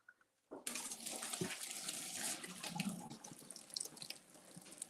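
Pasta water poured out of a pot to drain it, a sudden rush of splashing water that starts after a brief silence and keeps gushing and spattering, close and fairly loud.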